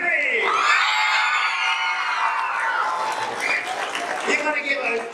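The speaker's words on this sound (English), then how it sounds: "Please put your hands together for Mrs. Wright, Mrs. Evans, Mrs. Langley" Audience applauding and whooping for a row of teachers at a school performance, loud sustained clapping with shrill cheers and yells rising over it, close and continuous.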